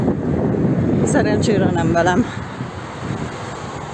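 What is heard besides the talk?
wind blowing into the microphone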